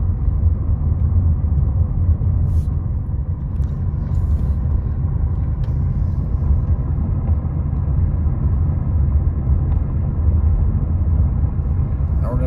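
A car cruises through the residential streets of Moon Ridge in Big Bear ahead of a tropical storm, a steady low engine and road rumble running continuously from the interior, with a voice talking over it throughout.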